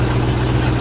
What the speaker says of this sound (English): This is a 1965 Ford Mustang two-door hardtop, powered by what I believe to be a really good running 289